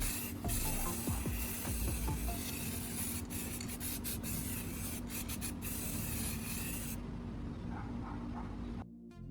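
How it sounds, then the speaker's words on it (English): A continuous hiss of an aerosol spray painting over a sanded plastic repair, with a few brief interruptions and small clicks, close and steady before cutting off. "I will spray a coat of paint over the sanded area."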